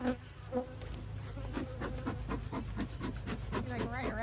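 A honey bee buzzes close around a beekeeper's head at a spring hive inspection, its faint whine weaving in and out amid rustling and handling noises.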